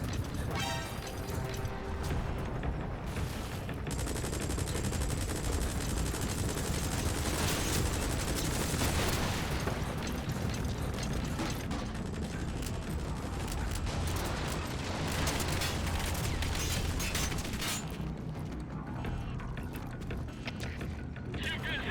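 Shotgun blasts and weapon handling in Metal Gear Solid V: The Phantom Pain at a mine, a dense, loud, continuous barrage of gunfire and mechanical clatter with occasional voices over it.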